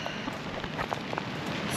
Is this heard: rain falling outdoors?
yes